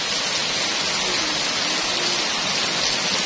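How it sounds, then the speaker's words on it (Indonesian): Heavy rain in a village in Ponorogo pours down in a loud, steady hiss with no pause, an unbroken wash of falling water close by. "Hujannya lebat banget, ini tidak seperti biasanya"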